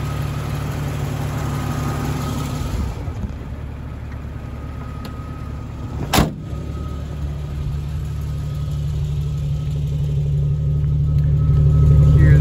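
A 1999 Jeep Cherokee XJ engine idles steadily up close, a constant low hum with one brief sharp click partway through, the idle growing slightly louder toward the end, with no talking.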